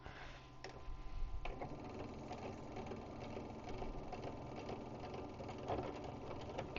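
A sewing machine stitches fabric in a steady, fast mechanical whir with a ticking needle rhythm, running close and continuous for about seven seconds with no talking.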